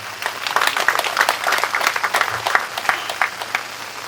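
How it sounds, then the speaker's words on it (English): Applause at a graduation ceremony, a large audience clapping for the graduates' parents with sharp, dense hand claps that run steadily throughout. "So, can we clap for our parents?"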